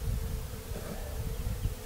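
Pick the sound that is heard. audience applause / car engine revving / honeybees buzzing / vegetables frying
honeybees buzzing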